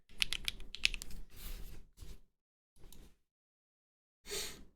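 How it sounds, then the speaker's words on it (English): Fingers type on a Vega mechanical keyboard during a typing test, bursts of quick clacking keystrokes that come in short runs with gaps of silence between them, close and clear. "I typically like to do sound tests, or typing tests."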